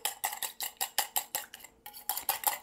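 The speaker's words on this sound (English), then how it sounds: "I just have a little whisk." A small whisk beats an egg in a bowl for a classic meatloaf binder, giving a quick, steady run of sharp metallic clicks and swishes, about four strokes a second, close and clear with one brief pause.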